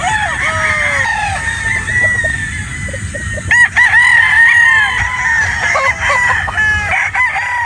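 A yellow-legged hatch gamefowl stag with a straight comb crows loudly and close, several long strained calls in sequence at a game farm, with clucking and a faint voice underneath.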